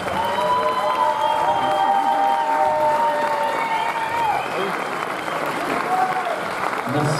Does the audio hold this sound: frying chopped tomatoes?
no